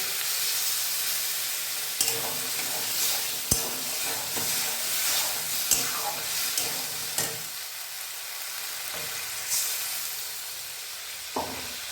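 A little water poured into spices frying in a pan for a white potato curry raises a steady hiss, while a spoon stirs with intermittent taps and scrapes against the pan.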